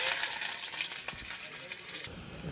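Onions frying in a pan give a soft, steady sizzle with a few light stirring scrapes, quiet and close throughout.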